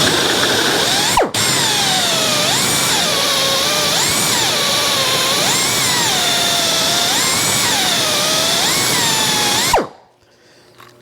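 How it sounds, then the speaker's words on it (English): A hole saw on a drill bores into pine wood, its close, loud motor whine rising and falling in pitch as it bites, starting after a brief pause and cutting off abruptly near the end. "now, very carefully with the hole saw, making sure that that is not going to take off material we don't want to take off."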